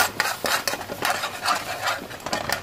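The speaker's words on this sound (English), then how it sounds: "I just added more water in order for me to stir the sugar and pour it back into the boiling water." Sugar is stirred into boiling onion water in a pot: a spoon scrapes and clinks in uneven strokes over a bubbling, hissing simmer, heard close up, with no talking.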